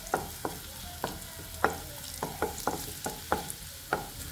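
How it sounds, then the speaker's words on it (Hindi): Garlic is stirred and fried in a pan for a Moong dal fry, with soft, steady sizzling under a series of sharp scrapes and taps of a spoon against the pan at an uneven rhythm. "तो कुछ सेकंड तक चला लेते हैं अच्छे से ब्राउन हो जाए।"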